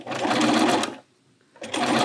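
Sewing machine stitching a gentle curve in quilt fabric, running at slow speed in two steady bursts separated by a short pause, close and alone.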